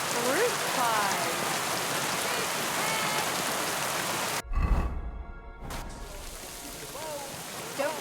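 Steady rain falling in a video game market scene, a dense even hiss that cuts out briefly partway through before resuming, with faint voices murmuring underneath.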